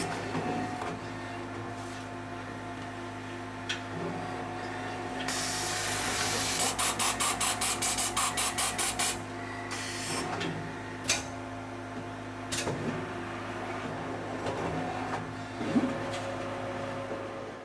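A Fastbook 10CF professional photo album machine runs with a steady mechanical hum, broken by bursts of rapid clattering pulses and sharp clicks and thumps as it processes pages, with no talking.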